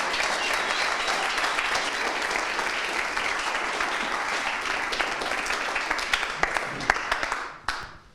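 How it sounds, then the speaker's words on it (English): An audience at a tech meetup applauds steadily for several seconds, dense close clapping that thins into a few scattered claps and then stops. "give him an applause, Ben"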